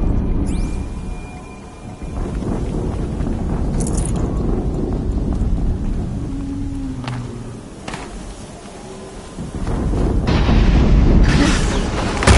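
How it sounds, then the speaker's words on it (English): Explosions in a tank battle game, heavy rumbling booms rolling in waves over a constant roar, with a louder burst near the end. "explosion."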